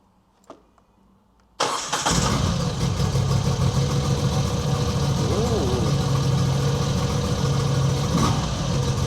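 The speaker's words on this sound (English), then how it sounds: "He described it as sounding like an American muscle car sat at the lights ticking over" An adventure motorcycle engine fires up and settles into a loud, steady, rumbling idle close by, with a faint voice at the start before ignition.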